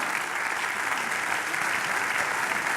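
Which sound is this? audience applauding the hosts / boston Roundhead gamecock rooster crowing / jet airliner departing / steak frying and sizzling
audience applauding the hosts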